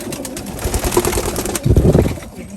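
A racing pigeon coos loudly up close in a throaty, rolling burst, with some rustling and shuffling around it and a stronger swell of cooing near the end.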